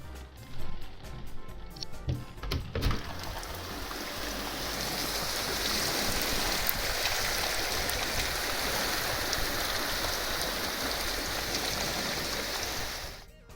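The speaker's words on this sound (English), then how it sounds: "And now here comes the rain." Rain comes down steadily on a scrapyard full of old cars after a thunderstorm, a dense, even hiss that starts after a few brief clatters and holds for about ten seconds.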